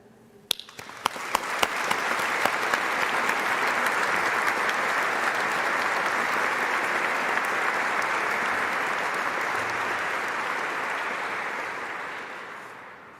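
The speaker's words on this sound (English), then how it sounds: "I'm sure you would like to join me in giving them a warm round of applause" A large audience at a university graduation ceremony breaks into loud, sustained applause, dense and even for over ten seconds after a few early claps, then begins to fade.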